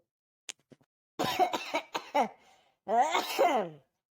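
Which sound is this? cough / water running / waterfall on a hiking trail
cough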